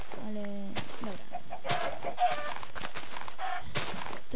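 Chickens in the video game Minecraft cluck in short, repeated bursts, clear and fairly close, with game sounds around them and no speech over them.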